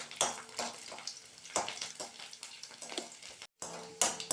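Seven or eight garlic cloves, added after mustard seeds, sauté in a pan for coriander thokku with repeated scraping stirs and crackling sizzle, close and fairly quiet, with a brief silent break near the end.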